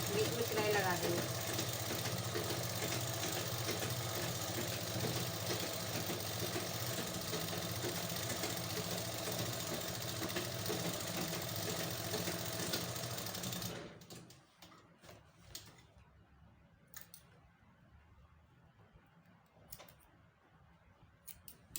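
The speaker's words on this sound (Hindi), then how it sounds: "इलास्टिक को इस तरह से खींचकर बीच में सिलाई लगा देंगे।" A sewing machine stitches elastic into palazzo pants with a loud, continuous motor whir for about fourteen seconds, then stops abruptly, leaving quiet room noise and a few faint clicks.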